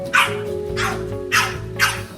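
A small dog, likely a Mini French Bulldog, gives four sharp barks spaced about half a second apart over a steady low hum, close and fairly loud.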